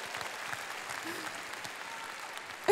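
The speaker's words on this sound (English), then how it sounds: "One more round of applause for everybody." A crowd applauds steadily throughout, a dense wash of clapping that swells into a louder burst at the very end.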